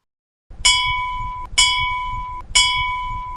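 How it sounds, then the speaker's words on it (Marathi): Three clear bell strikes, evenly spaced about a second apart, each ringing out with a bright, sustained tone that fades slightly before the next. "घंटाचा घनघनाट"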